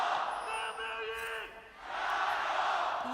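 A home crowd at an LPL esports match in a 2023 spring split game roars and chants loudly, swelling, dipping briefly, then surging again.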